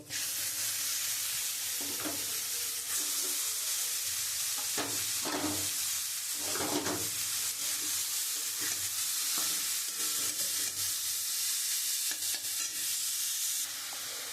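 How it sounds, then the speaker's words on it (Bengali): Papaya pieces go into a frying pan with rohu fish head, a steady close sizzle with stirring scrapes and clatters throughout, hissing continuously for about fourteen seconds. "আমি যে পেঁপেটা করে রেখেছি আমি এখন এই পেঁপেটা দিয়ে দেবো"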